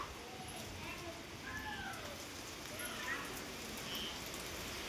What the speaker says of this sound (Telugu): ఇదిగోండి మెరుపులు ఇదిగోండి వర్షం కూడాను